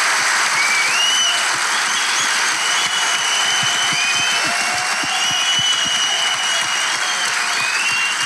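Studio audience applause opening a Turkish talk show, continuous dense clapping at steady volume throughout, with some high whistles and a few crowd voices over it.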